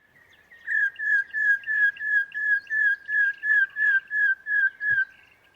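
A South Australian bird sings a fast, even series of about fourteen loud whistled notes, each rough-textured with a slight click at the start, close and clear against quiet surroundings.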